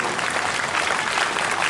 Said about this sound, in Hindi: एक बार आदरणीय श्री रघुनाथ सिंह जी बब्बू भैया के जोरदार ताली से आप लोग पहले दीजिए